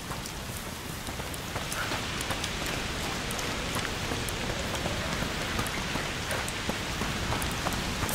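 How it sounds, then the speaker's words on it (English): Heavy rain pours steadily in A Plague Tale Requiem, a dense, even hiss of drops on surfaces with scattered sharper patters, with no voices. "Foul rain!"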